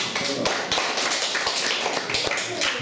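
A small group claps in a steady run of close, sharp hand claps for nearly three seconds, lively and loud throughout.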